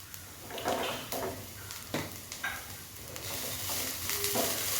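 Grated coconut with asafoetida fries in a pan for Tamil thavala vadai, making a soft, fairly quiet sizzle broken by several scraping stir strokes, with no voices.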